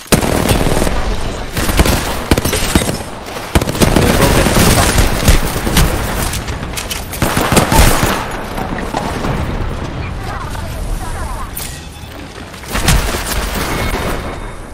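Rapid bursts of gunfire from an Apex Legends arena match, loud and dense across the whole stretch, with booming impacts mixed in and players talking over the shooting.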